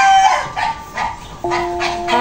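Several dog barks ring out in short bursts against a noisy outdoor background, with a steady tonal sound joining partway through.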